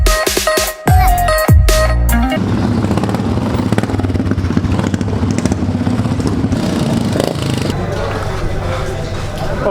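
Many motorcycles at a bikers' reunion in Basantapur, with more than 200 bikes gathered: a dense, loud, steady rumble of engines. Some sharp clattering bursts open it, and crowd babble runs under the engine noise throughout.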